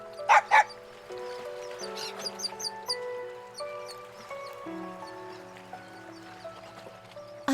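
A dog barks in the fighting game Persona 4 Arena Ultimax, two sharp close barks at the start over soft sustained background music, followed by lighter clopping and chirpy sound effects and another bark at the end.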